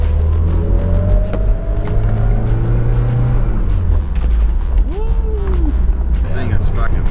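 A small JDM car's engine hums steadily while driving, a low drone with gentle pitch shifts as it moves through gears, heard up close inside the cabin under occasional talk.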